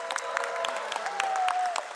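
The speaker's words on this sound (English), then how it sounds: "Can we have a huge round of applause for our dignitaries on stage?" An audience applauds at a stock exchange listing ceremony for Omnitech Engineering Limited at BSE, with dense, steady clapping from a crowd over two seconds and a faint tone sustained beneath.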